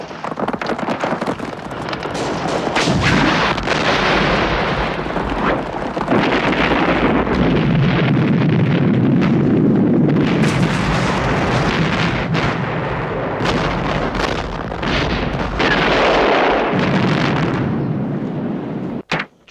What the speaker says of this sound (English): I'll blow up the benzene.